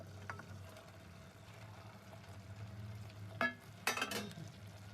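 Onion, carrot and beans being stirred in a frying pan, a soft steady sizzle with a few louder scraping clatters toward the end, close by and with no talk.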